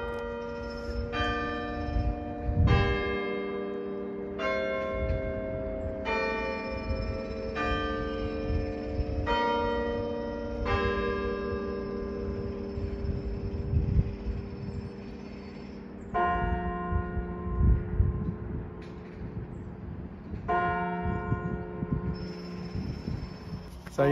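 Church bells ring near a narrowboat mooring on the Leeds & Liverpool Canal, a steady sequence of loud struck chimes with long ringing tails, about a dozen strokes, over low outdoor rumble and faint background noise.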